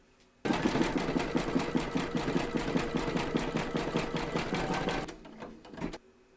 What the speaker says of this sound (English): Pop your hoop into your machine and stitch round number 6, and that's going to zigzag along here and join the 2 segments together.